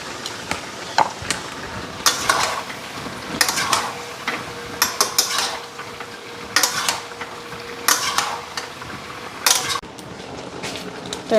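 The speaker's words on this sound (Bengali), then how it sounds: "আর পেঁয়াজটাও দিয়ে দিই" Onion goes into a pan and gets stirred during home cooking, a faint sizzle under repeated scraping and clinking of a spoon against the pan in irregular bursts.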